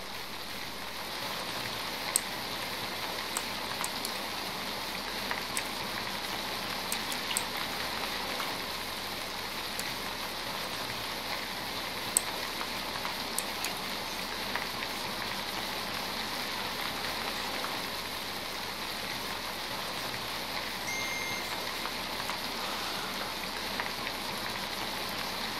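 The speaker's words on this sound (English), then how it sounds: "The rain's hurting us again." Steady rain in a Garry's Mod horror map patters evenly on a surface, a constant soft hiss with occasional louder drops, with no voices.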